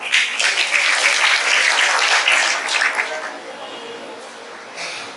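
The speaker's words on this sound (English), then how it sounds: "Please welcome our young poetess, Ms. Shri Patidar, with a huge round of applause" A school audience at an Independence Day celebration gives a loud, dense round of applause welcoming a young poet, the clapping sustained for about three seconds before fading to scattered claps and a brief final burst.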